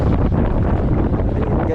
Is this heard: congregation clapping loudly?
no